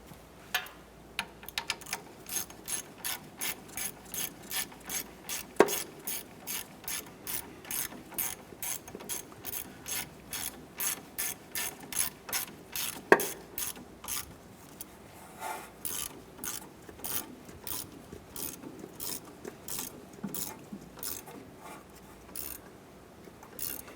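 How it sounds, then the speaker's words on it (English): A ratchet tightens the strut clevis bolt on a 2004–2008 Acura TL, a long run of rapid, evenly spaced clicks in steady strokes with a couple of sharper knocks, close and fairly quiet. "And we'll tighten down that bolt for the clevis."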